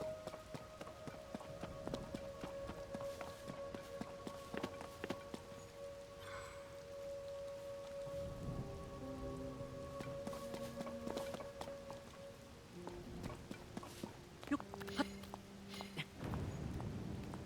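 Rain patters steadily in Zelda: Tears of the Kingdom, faint and continuous beneath soft running footsteps, a few game chimes and quiet music tones.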